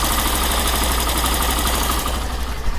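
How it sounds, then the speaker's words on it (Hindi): A Hero Glamour 125 motorcycle engine idles steadily with a low, continuous thrum and busy mechanical chatter, close and constant throughout with no voices. "और इसका इंजन साउंड जो है यहाँ पर आपको सुनाते हैं देखिए"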